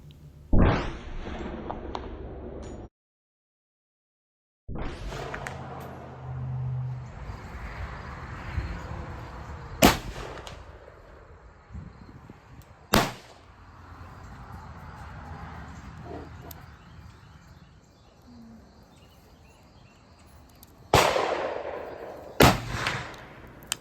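A pre-Civil War Maynard tape-primer rifle fires several sharp, loud shots at irregular intervals with quiet handling sounds between them, one shot and its echo near the end standing out most.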